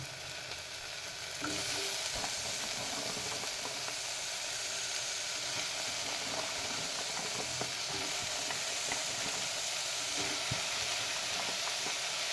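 Vegetables with ginger garlic paste sauté in a pan for vegetable biryani, giving a steady, close sizzle throughout with scattered scraping stirs. After a quieter opening second it is loud and continuous.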